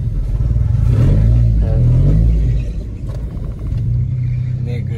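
A tuned car revs loudly up close, its engine rumbling and straining as the tire rubs against the body while the wheel turns, with people talking over the noise.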